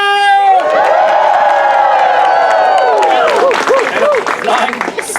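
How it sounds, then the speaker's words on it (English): A theater audience at a Shakespeare comedy performance erupts in loud cheering, whooping and clapping, sustained for several seconds before breaking into scattered shouts and hollers. "Hoot, holler, clap, cheer, stomp your feet, whistle"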